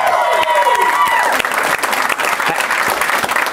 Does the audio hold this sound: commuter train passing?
no